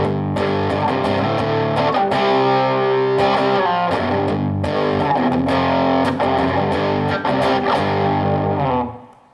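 Sustained electric guitar power chords played through heavy distortion ring out loud and thick, with chords changing every second or two and a final chord fading out at the end.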